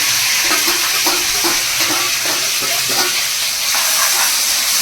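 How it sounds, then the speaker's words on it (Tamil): Onions frying in a pan for a village-style country chicken curry, giving a steady bright sizzle with stirring scrapes throughout, close and loud, with no talk. "சரி நீ வந்து வெங்காயத்தை போட்டுருவோம்"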